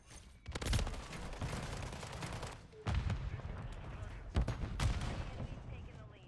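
Explosions and heavy gunfire in a Call of Duty match, with a sharp blast near the start and more bursts later, loud and crowded over a continuous battle din.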